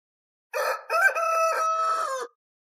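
A rooster crows a loud, close cock-a-doodle-doo lasting under two seconds, just after chickens are let out of their coop in a village, with silence before and after.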